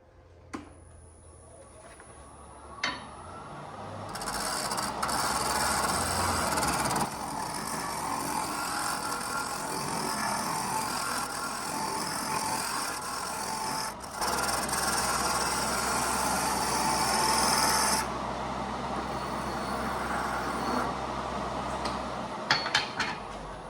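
A gouge cutting a wood blank on a lathe while turning a lidded canister: a steady, loud scraping hiss over the lathe motor's hum. It runs almost unbroken for most of the clip, then drops back to the quieter motor near the end.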